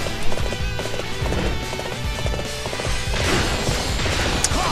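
A horse gallops in Dynasty Warriors 8 with rapid, rhythmic hoofbeats, close and loud, over a busy battlefield din with scattered impacts and no voices.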